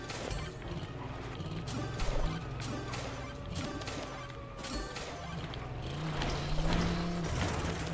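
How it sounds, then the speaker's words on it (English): A pumpkin smashed by a car in the LEGO 2K Drive racing game, a short crash burst over a steady engine drone and clattering mechanical game effects, with no talk. "Ooh, that is a smashing pumpkin."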